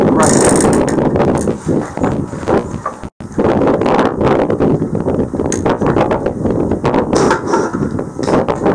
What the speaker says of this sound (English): use a wire tie to secure them nicely so that they don't get caught in the fan